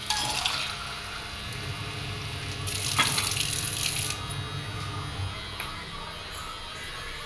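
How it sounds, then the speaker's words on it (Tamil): Water pours into a cooking pot in a home kitchen, a continuous running splash with a brief louder burst midway and a light clink of metal, under a faint low hum. "தேவையான அளவு தண்ணி ஊற்றிக்கலாம்"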